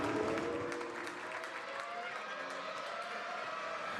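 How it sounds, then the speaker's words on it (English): Team members applauding in a Formula 1 garage at the 2013 British Grand Prix, a sustained patter of clapping set against the hiss and hum of the pit area. "Applause in the Red Bull garage as Sebastian Vettel returns."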